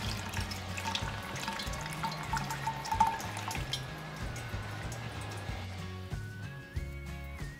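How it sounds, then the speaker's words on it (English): Iced tea poured through a coffee filter, a trickling, splashing stream of liquid with drips and light clinks, close and moderately loud, background music playing underneath. "We're going to pour it through this coffee filter."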